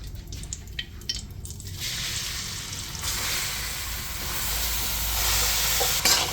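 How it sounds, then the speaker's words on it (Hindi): Carrots frying in ghee in a pan, a strong steady sizzle and hiss that swells once the carrots go in, continuous and close with faint clinks of stirring. "अब इसके अंदर मैं गाजर डाल दूंगी, थोड़ा सा फ्राई कर लूंगी"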